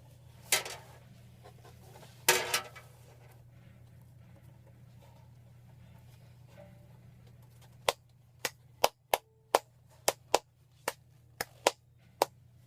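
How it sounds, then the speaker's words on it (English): Sharp hand claps in a rhythmic pattern: two early claps, a pause, then a quick series of evenly spaced claps, near and clear. "Let's clap the rhythm."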